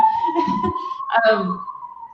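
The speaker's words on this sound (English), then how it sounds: "Sorry, I got a siren." A siren wails outdoors at a distance, one long steady tone gliding slightly upward for about two seconds, sitting under someone speaking.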